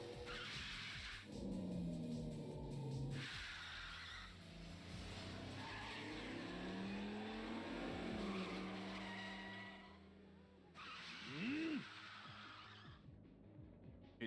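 A car in Yakuza 5 drifts with long, loud tire squeals rising and falling over a revving engine, sliding repeatedly through turns, close and continuous with no voices.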